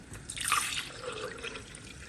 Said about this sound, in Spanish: En la licuadora voy a agregar agua.